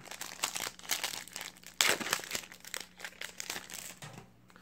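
A trading card booster pack wrapper is torn open close up: sharp crinkling and tearing foil, with a loud rip near the middle and rustling before and after.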